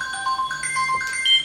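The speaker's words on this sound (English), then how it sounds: "Sorry, someone's calling me." A phone ringtone sounds during a beginner endurance boxing workout, a quick electronic melody of short bright beeping tones repeating over faint background noise.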